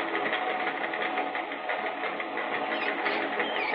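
A vehicle engine in an old-time radio drama runs steadily as the vehicle drives forward, giving a continuous muffled, narrow-band droning rumble with no voices.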